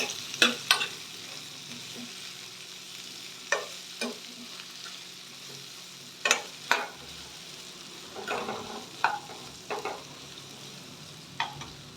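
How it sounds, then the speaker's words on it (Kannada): Capsicum and green peas fry in oil in a pan, a soft sizzle broken by sharp scraping stirs of a spoon that come in irregular clusters, close and fairly clear. "ಕ್ಯಾಪ್ಸಿಕಮ್ನ ಹಾಕೋತಾ ಇದ್ದೀನಿ ನಾನು ಇನ್ನು ಎಣ್ಣೆ ಚೆನ್ನಾಗಿ ಫ್ರೈ ಮಾಡಬೇಕು"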